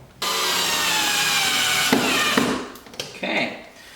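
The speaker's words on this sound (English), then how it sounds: "I'm going to tighten up my screw here in the wheel well." A power driver tightens a screw in the wheel well of a C8 Stingray Corvette while fitting Z06-style canards, a close, loud whirring burst lasting a couple of seconds, then shorter stuttering spurts.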